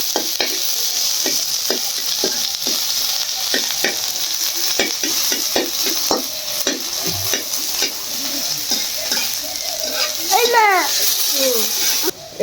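Spice paste frying in a little oil with cumin, cardamom, cinnamon and bay leaf, a constant close sizzle with repeated spatula scrapes and taps throughout, a voice talking faintly beneath.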